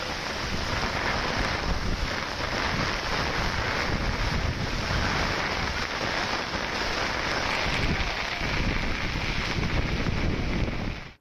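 Strong gusty wind with heavy rain roars continuously, a dense, loud rush and buffeting that holds steady throughout before cutting off abruptly at the end.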